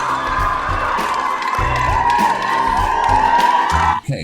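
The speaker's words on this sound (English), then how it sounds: "all the cheering in the background" A large crowd cheers and shouts steadily at Prince George's introduction, a dense, sustained roar with whoops throughout before a brief dip at the end.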